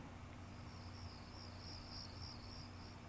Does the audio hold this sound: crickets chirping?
yes